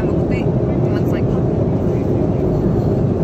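Steady broadband airplane cabin roar inside a passenger plane, a loud continuous low rumble with faint higher whine, unbroken throughout with no clear talk.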